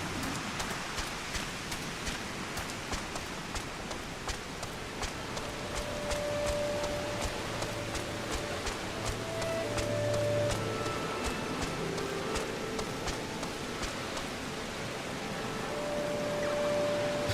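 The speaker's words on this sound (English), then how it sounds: "While it's raining in game" Rain falling in the Final Fantasy XIV video game, a continuous even patter with crisp individual drop ticks, steady throughout and heard alone, with faint tonal game sounds in the background.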